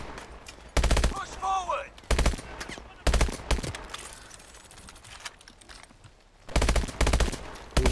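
Automatic gunfire in the PC game Call of Duty Advanced Warfare: loud, close bursts of rapid shots recurring in several volleys, with someone talking between them.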